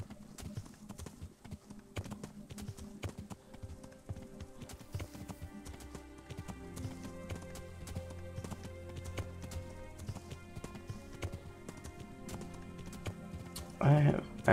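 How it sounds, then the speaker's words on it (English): Steady clip-clopping of horse hooves in the video game Kingdom Come: Deliverance runs throughout, with a game-like music bed and a voice speaking over it; a louder burst comes near the end. "riding on a horse is so awesome"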